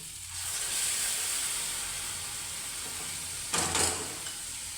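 Moist ground chutney goes into a pan of fried onion and tomato, making a steady hiss and sizzle that flares into a brief, louder crackle about three-quarters of the way through.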